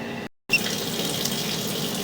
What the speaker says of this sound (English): turn on some water in the stationary tub here in the basement